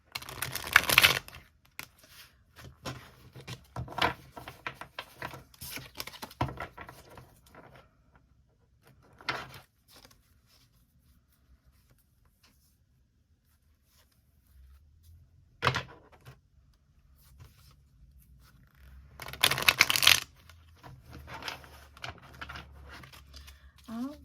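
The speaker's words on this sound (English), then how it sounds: "Trying to shuffle it well for you guys, because this deck actually isn't too big for my hands" A deck of tarot cards being shuffled by hand, in several short bursts of riffling and flicking separated by quiet gaps, close and fairly faint, with a person talking at times.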